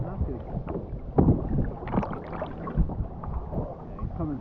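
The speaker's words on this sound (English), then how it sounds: "Putting the paddle back in" A kayak paddle dips into the water during a fishing trip on a UK kayak, giving a few gurgling splashes and sloshes up close, with wind buffeting the microphone.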